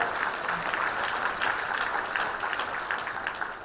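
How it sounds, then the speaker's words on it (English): An audience at a product presentation applauds, steady even clapping from many hands in a room, continuous and moderately loud without talk over it. "Can we clap? Give it up applause."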